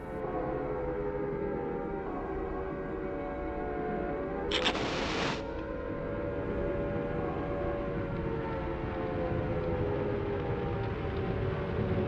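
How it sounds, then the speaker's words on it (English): A low, droning siren wails steadily over a dark rumble in the video game Silent Hill, with a brief burst of harsh hiss midway. "When the world grows dark, the sirens grow louder"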